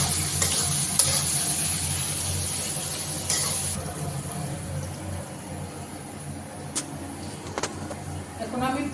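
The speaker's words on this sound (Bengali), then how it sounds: "পেঁয়াজগুলোকে লাল লাল করে ভেজে নেব" Onions frying in a pan with salt, a steady sizzle running throughout with a few brief scrapes and clicks, heard at moderate closeness under a low background hum.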